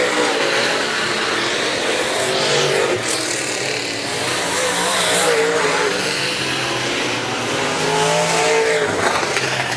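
Late model race cars roar around a dirt oval at Raceway Park as a heat race finishes, engines loud and continuous, revving through the turns with a slight tire squeal, under faint crowd or announcer sound.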